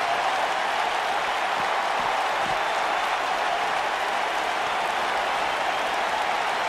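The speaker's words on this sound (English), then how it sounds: "this crowd being incredibly passionate here tonight" Wrestling video game crowd giving sustained, dense cheering and applause, loud and continuous throughout with no break.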